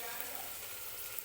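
Ground turmeric and dry spices sizzling in hot oil in a pan for Maharashtrian masala rice, a close, continuous frying hiss with faint crackles.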